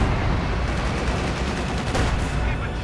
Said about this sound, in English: And again another strafing run.